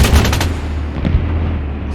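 Tank machine gun fire in the video game Arma 3, a dense, sustained stream of rapid shots with a low rumbling boom underneath, loud and continuous throughout.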